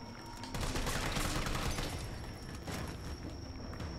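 Grenades go off amid bursts of gunfire in the Resident Evil 3 Remake game, a dense, loud barrage of blasts and shots rolling on continuously with no voices over it.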